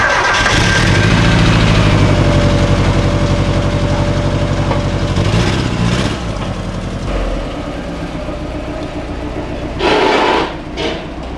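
A turbocharged Mazda Miata drift car cranks and fires up, its engine running loud and close with a steady rumbling idle that eases back partway through, followed by quieter idling and a short burst of noise near the end.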